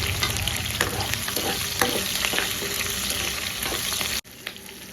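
Onions and green chillies stirred in hot oil in a pan for paneer pulao, a loud close sizzle with scraping stirring strokes, cutting off abruptly near the end into quieter frying.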